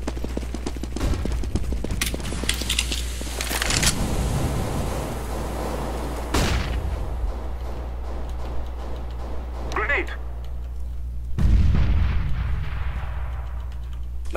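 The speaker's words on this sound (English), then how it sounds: "Grenade." Grenade blasts and gunfire pop in a Counter-Strike match, with several sharp bursts and a deeper explosion late on, all running under near-constant team chatter.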